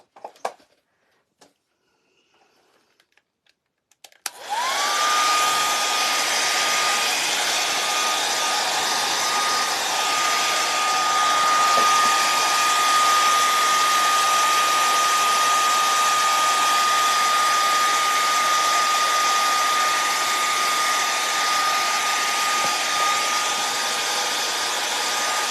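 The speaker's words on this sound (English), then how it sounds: "And I'm going to hit mine with a blow dryer." A blow dryer drying paint on a snowman door hanger clicks on after a few seconds of quiet handling, then runs as a loud, constant whir with a steady high whine until the end.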